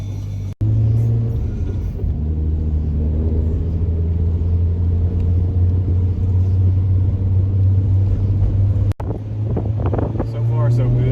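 A Nissan GT-R on a short low-speed test drive after an idler pulley install, with a steady loud engine and road rumble heard from inside the cabin throughout and a slight rise near the end.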